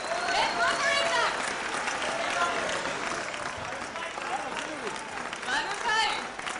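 A crowd at a Booking.com World of Travel celebration event with Varun Dhawan and Zaheer Khan cheers and applauds steadily, with shouts and whoops rising over continuous clapping and crowd noise.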